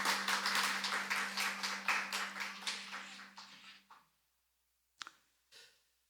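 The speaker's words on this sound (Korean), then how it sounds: "박수" A church congregation at a Sunday united service claps in a steady, rhythmic beat over a sustained low tone, then stops abruptly, leaving near silence broken by a couple of faint taps.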